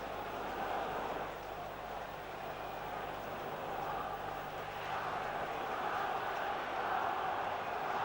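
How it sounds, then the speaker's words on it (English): A Derby County football crowd at a 1970s home match roars as one steady, distant, moderately faint mass of noise, swelling slightly in places, with no clear voices on top. "Crowd boiling with excitement now."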